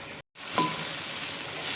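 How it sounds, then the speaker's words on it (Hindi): Chicken browning in a pan for chicken palak gives a steady, close, even sizzle, broken by a brief silent gap near the start, then continuing with no talk. "अच्छी तरह से भूनें चिकन को।"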